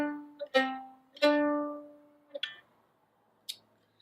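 Two notes from C up to D, a major second, played in sequence on a sustained tonal instrument, each ringing about a second before fading, followed by a couple of light clicks, close and quiet.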